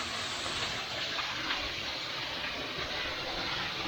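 Water pours continuously at the last of the seven waterfalls in San Pablo, a soft, even, broadband rush heard from a distance with no voices.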